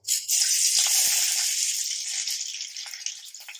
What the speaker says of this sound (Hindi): आप देख सकते हैं कि तेल गर्म हो गया है और अब हम इसमें सबसे पहले डालेंगे प्याज